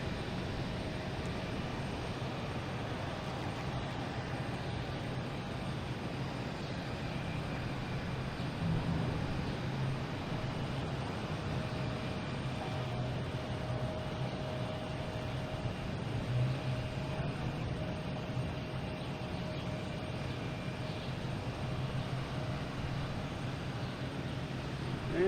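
A large airliner bound for London Heathrow climbs out of Boston Logan, its engines making a steady broadband roar that holds at a constant, fairly distant level for the whole stretch with no voices.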